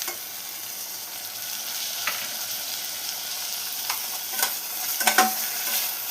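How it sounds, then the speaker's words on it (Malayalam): Chopped tomato and onion sizzling in a pan for dal curry while being stirred, a continuous bright frying hiss broken by a few clicks and scrapes of the spoon near the end. "ഇനി ഇതെല്ലാം മിക്സ് ചെയ്ത് ഒന്ന് മൂടി വെച്ച് ഈ തക്കാളി ഒന്ന് വേവിച്ചെടുക്കണം"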